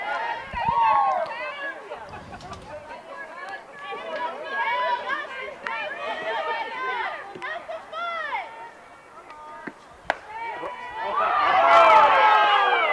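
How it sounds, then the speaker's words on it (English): At a college softball game between UNCG and ETSU, a crowd lets out a murmuring groan of disbelief at an umpire's call, rising and falling with scattered voices and a louder swell near the end. "you can hear the crowd also frustrated. It's a consensus, a little groan of disbelief that she's not getting that call"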